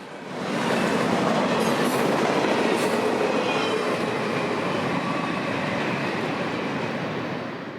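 A long 150-car freight train rumbles steadily past close by, a dense continuous roar of wheels and rail clatter with faint squeals, fading slightly at the end.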